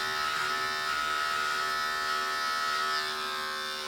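An electric hair clipper cuts hair during a basic back-and-sides haircut at home. Its steady, close, buzzing hum runs without a break and no voices are heard.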